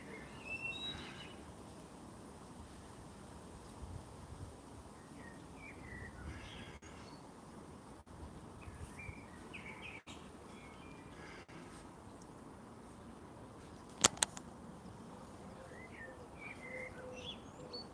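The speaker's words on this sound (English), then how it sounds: "within a minute, 4 different birds" Several wild birds call and chirp faintly outdoors against a steady broadband background, with scattered short calls throughout and one louder brief burst near the end.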